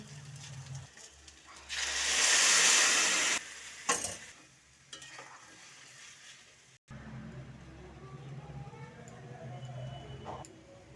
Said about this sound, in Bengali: একটু ভালো করে কষাইয়ে সবজিটা, তারপরে গরম জল দেবো তরকারিতে।